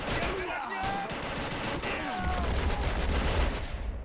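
Gunfire in the World War II strategy game Men of War: dense, overlapping bursts of machine-gun and rifle fire with heavy impacts, loud and continuous, and a voice comes through in places.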